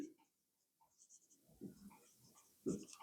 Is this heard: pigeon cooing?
no